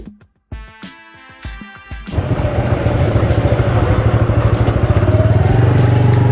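A vehicle drives over a potholed dirt road on the way to a hilltop temple, with a few sharp clicks and clatters at first and then a loud, steady engine drone that rumbles on with a rough, pulsing rhythm.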